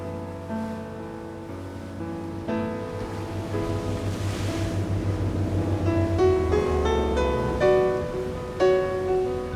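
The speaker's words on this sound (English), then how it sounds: "We're sailing up the estuary of the Tagus River." A ship sails up the Tagus River estuary toward Lisbon in morning mist, with a steady wash of waves and wind under sustained tonal music.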